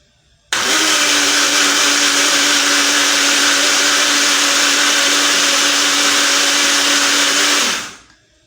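A blender motor whirs loudly and steadily for several seconds while making mayonnaise, then spins down and stops.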